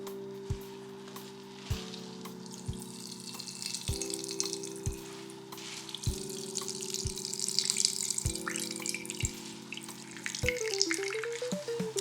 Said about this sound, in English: I'm going to wrap up the squash in this cheesecloth and squeeze it and try to get as much moisture out as possible